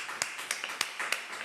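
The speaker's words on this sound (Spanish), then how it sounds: "un aplauso por favor" Sparse clapping greets a studio interview guest, a few distinct claps in an irregular rhythm, fairly close and modest in volume, with no talk over it.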